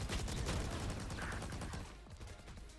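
Rapid gunfire from a Valorant tournament match, a dense, steady crackle of shots filling the whole moment with no speech over it.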